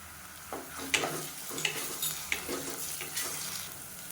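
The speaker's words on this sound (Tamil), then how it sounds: "இஞ்சி பூண்டு பேஸ்ட்டு நல்லா வதங்கிடுச்சு" Ginger garlic paste sizzles with sautéed onions in an oiled pan. The frying hiss is soft and steady, broken by a few sharp spatula taps and scrapes, and there are no voices.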